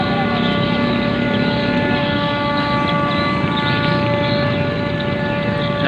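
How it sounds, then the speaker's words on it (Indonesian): A civil defense siren marking Indonesia's 75th Independence Day proclamation commemoration wails steadily at a constant pitch, loud and sustained throughout, with no talking over it. "suara sirene tanda detik-detik proklamasi kemerdekaan Republik Indonesia yang ke-75 sudah dibunyikan"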